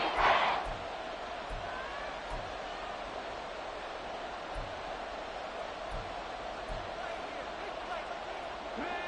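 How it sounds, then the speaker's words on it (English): A stadium crowd at an NFL football game between the Atlanta Falcons and New Orleans Saints roars in a steady, distant wash of cheering and noise, with faint low thumps scattered through it. "This crowd doing all they can."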